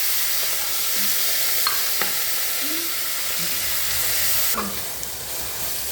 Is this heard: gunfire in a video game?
no